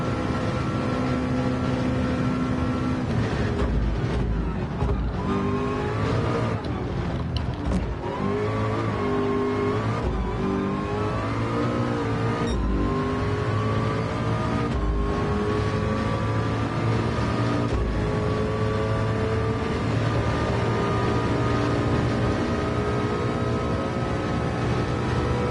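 A race car at the 24 Hours of Le Mans in a VR racing game, engine howling loud and close, rising and falling through gear shifts and braking for chicanes, with no talking.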